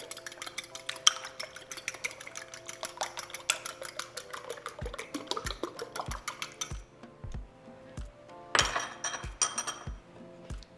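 Two eggs are lightly beaten in a bowl for a potato mixture, giving rapid, rhythmic clinks of a fork against glass, then slower taps and a brief flurry near the end.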